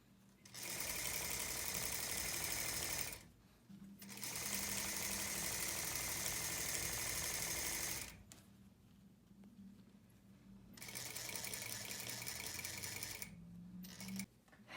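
Sewing machine back stitching a tailored collar lapel, running in three sustained bursts of rapid mechanical whirring separated by short pauses, close and clear with no talk.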